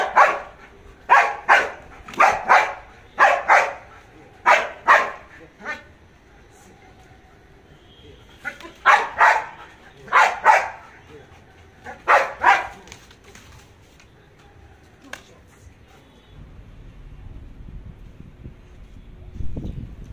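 Dog barking on command during a training session, sharp loud barks in rapid clusters of three to five, with pauses between groups and a low rumble of background noise.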